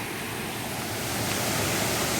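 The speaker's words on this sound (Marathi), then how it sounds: "इथून तो धबधबा खाली कोसळतोय" Steady, dense roar of the Savatkada waterfall plunging down in the Konkan, a broad rushing wash that holds even and grows slightly louder toward the end, with no voices.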